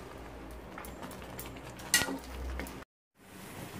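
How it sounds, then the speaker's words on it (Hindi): Bottle gourd halwa roasting in ghee in a home kitchen pan gives a soft steady sizzle, broken by scattered scraping and stirring knocks, one sharper clink in the middle and a brief cut to silence near the end. "अब इसे अच्छे तरीके से भूनना है"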